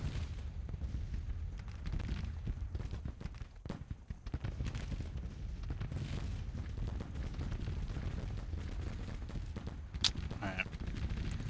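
Booming artillery and gunfire rumble continuously through a Civil War strategy game battle, dense low thuds layered with scattered crackling shots, with a brief spoken word near the start.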